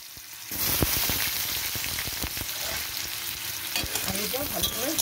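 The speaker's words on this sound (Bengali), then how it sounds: "এবার এগুলোকে আমি ভেজে নেব" Egg and potato pieces dropped into hot oil in a pan, a loud sudden sizzle that keeps up as steady crackling frying, with scattered spatter pops and a stirring scrape near the end.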